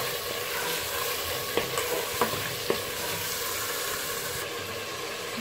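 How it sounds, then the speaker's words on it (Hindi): Mutton pieces fry in a pan for aloo gosht, giving a dense continuous sizzle and hiss with a few sharp clinks from stirring, close and steady, with no talking. "अब इसमें गोश्त शामिल करेंगे। और इसको इतना भुनेंगे इसका अपना रंग पिंक हो जाए।"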